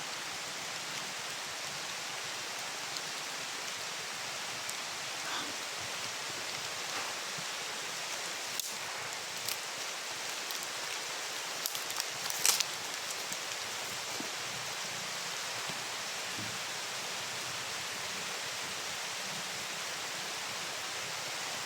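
Heavy rain falls outdoors in a constant dense roar, with sharper drips and small impacts breaking through here and there, strongest around the middle, and no voices present.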